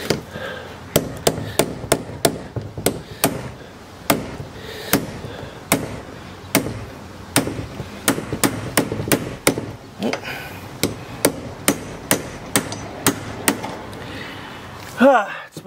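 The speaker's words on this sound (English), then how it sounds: "we're gonna give the new ring some taps" A hammer taps a new fuel sending unit ring into place on a Jeep Grand Cherokee, sharply over and over at a steady, slightly uneven pace, around two dozen close metallic strikes, with a little background noise.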